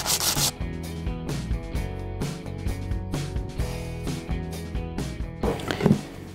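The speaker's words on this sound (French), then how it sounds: "On va nettoyer le bois un peu, là où il y a des cochonneries." Piece of driftwood being rubbed clean of debris, a close, scratchy scraping in repeated back-and-forth strokes with an irregular rhythm.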